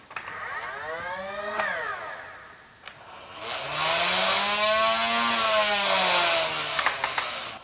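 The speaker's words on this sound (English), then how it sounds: "These flywheels kind of sound a little bit different compared to how regular Nerf flywheels rev up." Nerf Ultra One blaster flywheels spin up twice with a rising, whirring motor pitch, the second rev longer and steadier before winding down, followed by a few sharp clicks at close range.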